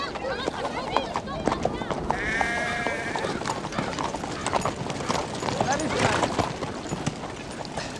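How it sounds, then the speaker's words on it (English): Many horses' hooves clip-clop busily and close by, overlapping into a dense clatter, with a whinny or bleat rising above and people talking throughout. "We need all these horses shod."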